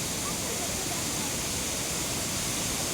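Water pours down from an open dam gate in a loud, unbroken rushing roar that fills everything, steady and close with no pauses.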